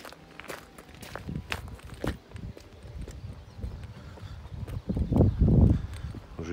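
Footsteps tread across a wooden bridge near the Inya river by the abandoned village of Borovaya, close and uneven, with hollow knocks on the planks growing louder toward the end.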